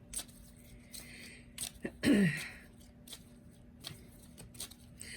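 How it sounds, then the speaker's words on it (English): Archangel Raphael Healing Oracle cards are shuffled by hand in soft, close riffles and taps, with one louder burst of rustling midway and brief faint sounds around it. "I am tossing, shuffling specifically, our Archangel Raphael Healing Oracle cards"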